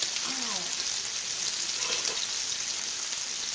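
Sausage with chopped onion and green pepper frying in a pan, a steady close hiss of sizzling that holds evenly throughout, with no one talking over it.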